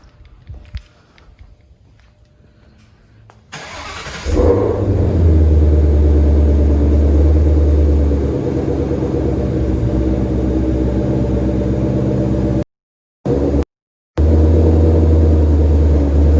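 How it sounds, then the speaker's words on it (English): A 2020 Ford Mustang GT500 starts up after quiet handling sounds, then drives up onto ramps with a loud, steady, deep engine drone close by, cut by two brief dropouts near the end. "So I will drive the car up onto those ramps on all four wheels"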